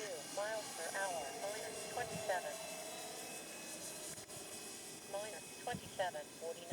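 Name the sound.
Freewing Avanti S 80mm EDF model jet in flight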